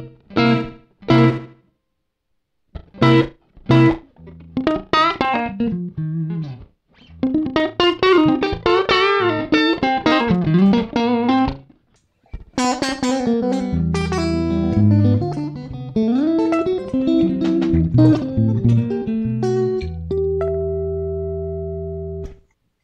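An electric guitar played through a cheap AliExpress reverb and echo circuit board gives fuzzy, distorted notes and strummed chords with a light slapback echo, starting with sparse plucks, then denser phrases and a final sustained chord, close and loud with no talk.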